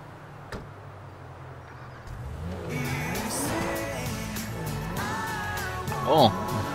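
A car in the GTA 5 video game starts up after a quiet moment and accelerates, its engine rising in pitch through several revs with a brief tire squeal near the end. Voices talk over the engine.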